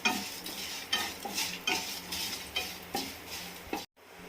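Dried red chillies fry in oil in a pan while a spoon stirs them, giving a soft sizzle broken by rhythmic scraping clinks about every half second, close by, ending in sudden silence.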